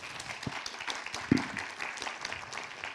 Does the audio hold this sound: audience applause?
yes